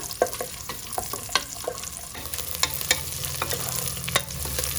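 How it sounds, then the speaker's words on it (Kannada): Country onions sizzle in hot oil in a pressure cooker, a continuous close crackle broken by frequent quick stirring taps and scrapes of a spoon on metal, with no talk. "ಎಣ್ಣೆ ಚೆನ್ನಾಗಿ ಫ್ರೈ ಮಾಡ್ಕೊಳ್ಬೇಕು ನಾಟಿ ಈರುಳ್ಳಿನ"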